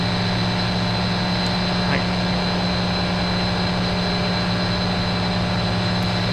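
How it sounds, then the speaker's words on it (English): Small generator running in a ship's engine room, a loud, unbroken mechanical drone with a steady hum and whine that fills the space without pause. "It's a small generator, but it still needs attention."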